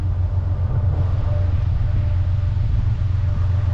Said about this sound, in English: now I'm over this side of the railway tracks, I can hear the train